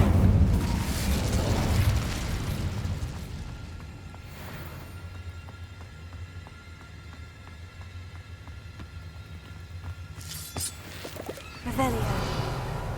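An Incendio fire spell is cast in the video game Hogwarts Legacy: a loud fiery burst at the start, a quieter stretch, then another flaring rush near the end, with speech in the clip.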